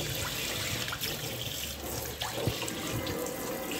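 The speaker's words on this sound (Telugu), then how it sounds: "ఇప్పుడు నేను షవర్ పెట్టాను. సో ఇట్లా వస్తుంది వాటర్." Water pours steadily from a two-in-one shower tap in a home bathroom, a soft continuous hiss and splash with a few faint knocks, close and fairly quiet.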